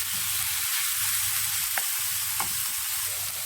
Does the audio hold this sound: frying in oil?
yes